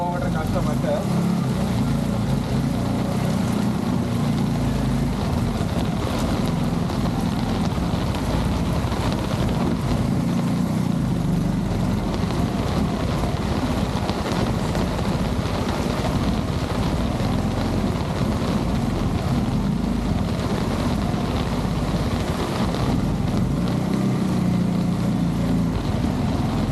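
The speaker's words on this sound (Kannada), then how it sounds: "ಒಳ್ಳೆ ಮೋರಿ ಥರ ಐತೆ, ಭಯಂಕರ ನೀರು ಹೋಗ್ತೈತೆ." Floodwater from heavy rain rushes along a Bengaluru street in a loud, continuous roar that never lets up, while someone talks over it.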